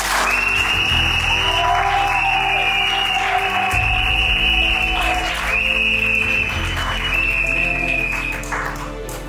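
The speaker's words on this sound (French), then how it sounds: "Mesdames et messieurs, juste félicitez le couple par un tonnerre d'applaudissements." Loud, sustained applause from guests at a civil wedding ceremony in Gabon, steady dense clapping throughout with a faint voice briefly rising near the start, tapering slightly at the end.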